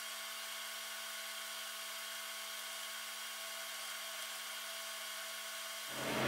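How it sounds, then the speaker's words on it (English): A fume extractor runs steadily at a Xbox One S soldering bench, a broad, even whir holding at a constant level and then swelling louder near the end. "Fume extractor on."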